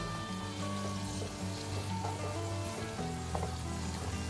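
Homemade hair oil simmering over a low flame, a steady soft sizzle and gentle bubbling that runs evenly throughout with a few faint clicks, no voices.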